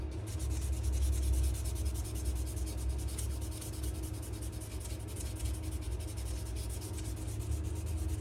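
A knife handle is sanded by hand, producing a steady, close, rhythmic scratchy rubbing that continues without a break and is heard alone.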